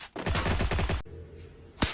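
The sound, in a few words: gunfire in the video game Free Fire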